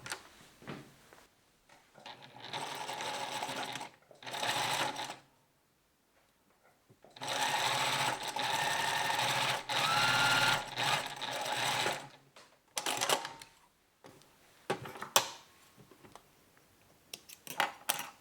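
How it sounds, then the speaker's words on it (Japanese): Overlock serger sewing machine stitching a knit sleeve seam: several bursts of rapid, whirring machine stitching separated by quiet pauses and small handling clicks, close and clear. "ここにロックミシンをかけてきます。"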